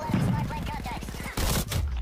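First-person shooter video game gunfire: a rapid, loud burst of repeated shots, then a heavier blast and more firing, with speech-like sounds under the action.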